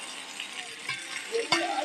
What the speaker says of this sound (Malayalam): അപ്പോൾ നമ്മളിതാ മസാല ഇതാട്ടോ ഇറച്ചി പൊരിക്കാൻ വെച്ചു.